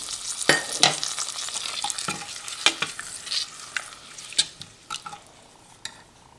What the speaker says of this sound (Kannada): ಹೀರೆಕಾಯಿ ಸಾರಿಗೆ ಒಗ್ಗರಣೆನ ಹಾಕ್ತಾಯಿದ್ದೀನಿ